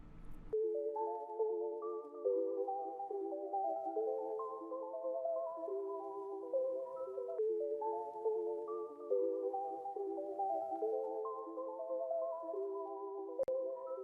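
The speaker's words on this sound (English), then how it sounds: "my next arp is the arp down an octave" A plucked guitar arpeggio for a trap beat is played an octave down in FL Studio, cycling through descending note patterns in a steady loop. It sounds clean and even, stays faint, and has no voice over it.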